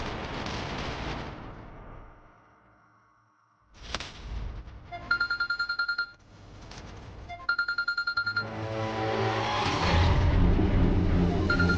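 A phone ringtone sounds in a domestic scene from a Malayalam TV serial, coming in two separate bursts of rapid, evenly repeating electronic ring pulses, set among louder rumbling background sound and music.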